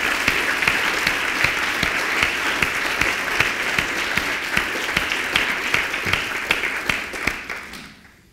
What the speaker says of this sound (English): I want you to give him a round of applause